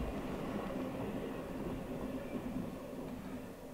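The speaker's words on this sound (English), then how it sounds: "There's the end of Norfolk Southern 206." A Norfolk Southern 206 freight train rolls past in snow, its tail end going by with a steady, moderately distant rumble and faint wheel noise that holds even and continuous throughout.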